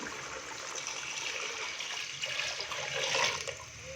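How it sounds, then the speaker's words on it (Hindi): Water pours steadily into a pot of vegetable chicken pulao, a continuous splashing rush that swells slightly toward the end, close by with no talking. "तो इस टाइम पे आके मैं इसके अंदर डालूंगा पानी"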